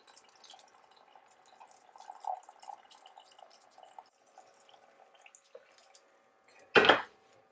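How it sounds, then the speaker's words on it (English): Chicken stock trickles and pours quietly into a pan of roux for several seconds, followed by a single sharp clank of metal near the end. "So I'm going to pour it into my roux."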